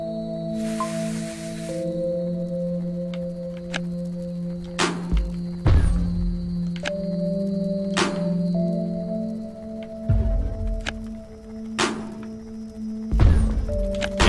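Bombs striking a spawner in a video game, heard as repeated dull thuds and thumps at irregular intervals over a steady droning game soundtrack.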